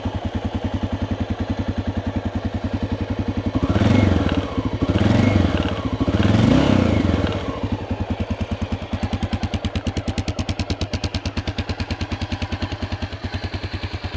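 A 1988 Honda NX650 single-cylinder motorcycle idles with a steady, loud thumping putter just after a cold start, off choke. In the middle it revs up in three short blips, then settles back to the even idle beat.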